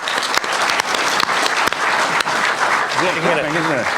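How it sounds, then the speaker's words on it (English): Audience at a Boston Comic Con 2012 panel applauds two comic creators, a steady, dense round of clapping filling the room, with a voice speaking over it near the end. "So another round of applause, please"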